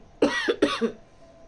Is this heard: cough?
yes